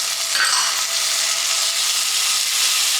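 Garlic, about two cloves, sautéing in a hot pan, a loud continuous sizzle and crackle close up, with no talking.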